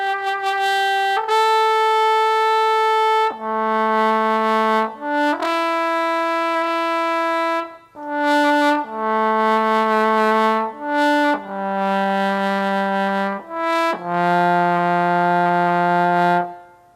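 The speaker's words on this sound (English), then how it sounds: "French horns sound like this." A SWAM virtual French horn by Audio Modeling plays a solo phrase of loud, brassy sustained notes that move between middle and low pitches, with brief breaths between phrases.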